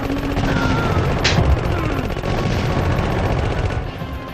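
Rapid bursts of gunfire and booming explosions from the PlayStation game Contra Adventure, dense and continuous with a brief sharp blast partway through.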